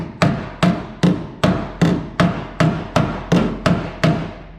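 A flat-faced hammer strikes the sheet metal of a 1966 Ford Mustang fender in an even rhythm, about ten sharp, ringing blows spaced roughly half a second apart, close and loud with nothing else heard.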